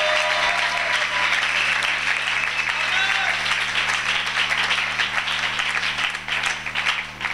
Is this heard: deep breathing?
no